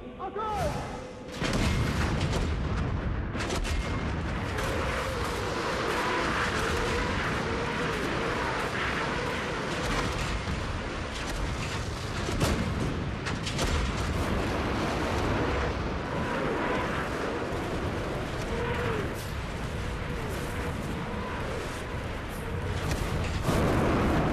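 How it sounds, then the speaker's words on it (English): Wartime artillery barrage with Katyusha rockets, a dense, continuous rumble of booms and crashes layered over one another, loud and sustained throughout, with someone narrating over it. "they unleash their artillery and Katyusha rockets"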